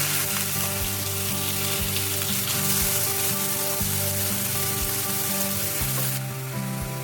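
A paste of tomato, coriander leaves, green chili and ginger sizzles and fries in hot oil, a loud, steady crackling hiss that continues unbroken and close by.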